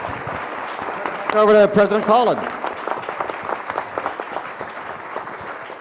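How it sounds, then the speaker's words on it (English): An audience applauds a forum panel. A voice speaks briefly at first, then dense clapping follows, continuous and fairly close. "join me in a round of applause for our wonderful panel"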